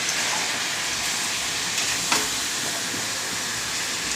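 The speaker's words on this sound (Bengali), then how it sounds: "মাংসটাকে ভাজছি।" Meat frying in hot oil in a pan in a home kitchen, after potatoes were fried first: a steady, close, even sizzle and hiss throughout with a brief faint knock near the middle.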